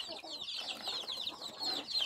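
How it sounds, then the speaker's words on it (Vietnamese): A hen and many small chicks cluck and cheep close by in a rural mountain setting, a busy, continuous stream of high peeps over soft clucks. "Ôi con gà con nhiều thế."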